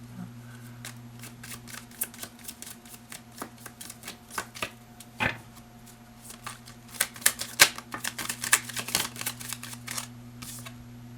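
Tarot cards shuffled by hand in close, crisp bursts of riffling and flicking, with a few louder slaps in the middle and a denser flurry toward the end, over a steady low hum.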